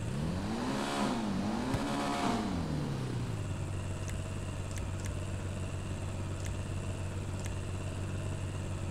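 A Manchez Scout motorbike fitted with a big exhaust in GTA Online revs twice in quick rising-falling swells, then settles into a steady, loud idle with a few sharp clicks.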